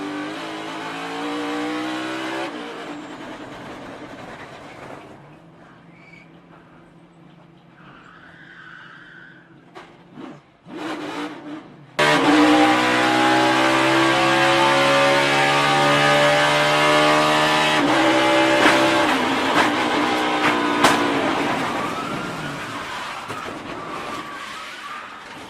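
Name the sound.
NASCAR Cup Series race car onboard, braking and spinning out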